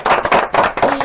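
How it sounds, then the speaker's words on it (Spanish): Brief burst of hand clapping from a small group during a live online stream, close and sharp with uneven rhythm, lasting about a second. "le quiero hacer un aplauso muy grande"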